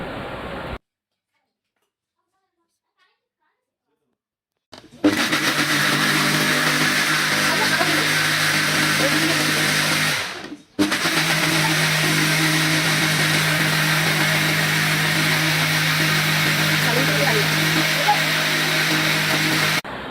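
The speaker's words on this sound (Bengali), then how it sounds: "এখন আমরা এটাকে অল্প অল্প করে একটা ব্লেন্ডারের জারের মধ্যে নিয়ে নিচ্ছি। এটাকে আমরা ব্লেন্ড করে নিব।" An electric blender whirring through cooked tomatoes for tomato sauce in its jar, starting after a stretch of silence and running steadily in two loud sustained spells separated by a brief stop.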